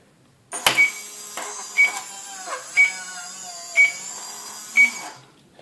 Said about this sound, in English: this motor is spinning this way